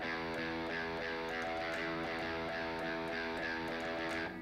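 An electric guitar plays distorted chords without palm muting, letting the strings ring and sustain in a dense, loud wash, with repeated pick attacks in a steady rhythm.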